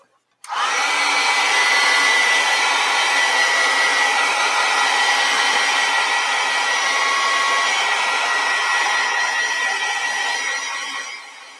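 A hair dryer switches on abruptly and blows steadily for about eleven seconds to dry acrylic paint, a loud, close, continuous whooshing whine that tapers slightly at the end, with no talking.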